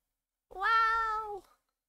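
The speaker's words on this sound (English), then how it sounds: "I don't know if you guys can hear, but my cat's a meowing." A single pet cat lets out one clear, drawn-out meow close to the microphone, lasting about a second, with quiet surroundings and no talking.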